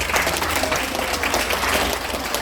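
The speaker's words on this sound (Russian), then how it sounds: "надо, во-первых, аплодисментами поддержать команду Туган Авалам" An audience at a record-attempt event applauds, a dense, even wash of clapping held throughout the short stretch with no pauses.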